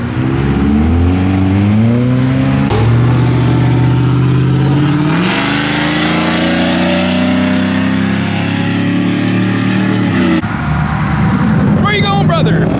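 A Nissan GTR accelerates hard and fishtails at a car meet, engine revving up through rising pitch sweeps, very loud and close, with crowd voices mixed in and a squeal near the end.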